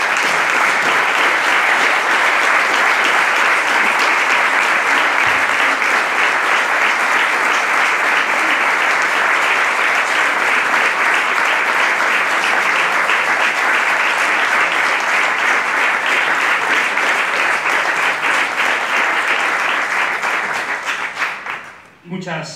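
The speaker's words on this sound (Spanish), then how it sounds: "Quiero pedir para él un fuerte aplauso" Loud, sustained audience applause at a summer school political event rolls on for over twenty seconds as a thick, even roar of clapping, then tapers off abruptly at the end.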